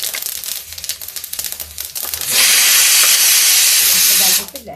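Yellow mustard seeds, cumin and asafoetida crackle in hot oil with scattered pops and crinkles, then swell into a loud continuous hissing sizzle for about two seconds before it abruptly drops away.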